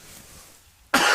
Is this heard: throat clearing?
yes